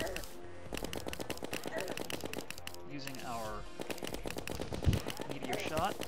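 Meteor Shot fire from a gun in Terraria during a Skeletron fight, a rapid steady stream of small shot sounds running under continuous talking.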